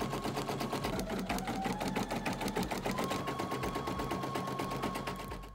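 A Brother PE800 embroidery machine stitches a design onto a sweater, a close, steady rapid clatter of needle strokes running continuously with no talking.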